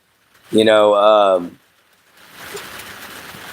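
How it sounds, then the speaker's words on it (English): A voice speaks briefly, then steady heavy rain hisses and patters on its own, a dense wash of drops close by. "as y'all can hear, it's raining its butt off."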